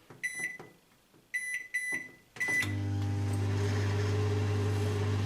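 A few short electronic beeps as the keypad is pressed, then a steady loud hum as a 800-watt microwave oven starts running with a Tommee Tippee Gen 2 steriliser inside.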